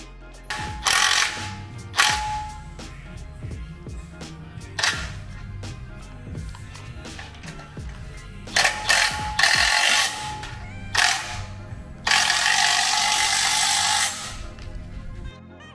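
Ratchet wrench tightening the winch plate bolts onto the frame of a Jeep JT/JL during a Road Armor Stealth bumper and winch install, with bursts of rapid clicking strokes interrupted by short pauses and a longer continuous run near the end.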